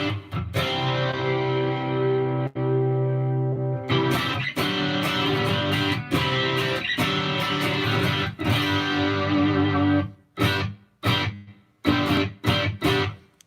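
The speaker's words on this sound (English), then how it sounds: "Let's just try like a medium room and make the decay nice and low and get like a very natural room sound." Electric guitar played through a Headrush unit with a medium room reverb set to low decay, sustained chords ringing steadily for about ten seconds, then short choppy strums with brief natural room tails.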